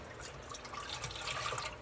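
Water splashes and trickles steadily into a bucket, a continuous close wash of pouring liquid with no talking.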